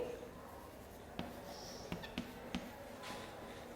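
Marker or chalk strokes on a classroom board during a Class III geometry lesson, four or five brief scratchy taps and short strokes, close and quiet, with no talking.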